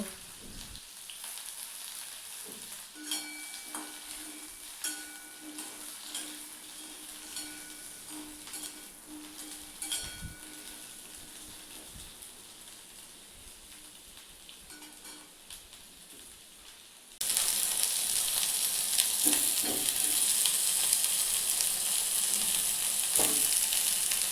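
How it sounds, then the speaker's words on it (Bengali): Pointed gourd frying in oil in a kadai: a continuous crackling sizzle with occasional stir clicks, moderately close, growing into a louder, brighter hiss toward the end, with no talking. "প্রথমে পটলটা তেলের ওপর দিয়ে একটু ভালোভাবে ভেজে নেব"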